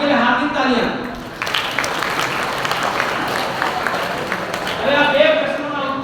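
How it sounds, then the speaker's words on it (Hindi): A lecturer speaks, then a university lecture-hall audience bursts into several seconds of dense applause for a student before his voice returns over the fading claps. "मैं हार्दिक के लिए हार्दिक तालियां"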